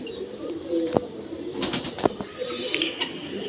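Pigeons coo softly nearby in a pigeon loft, with a few wing flaps and scattered bird sounds in a quiet enclosed space.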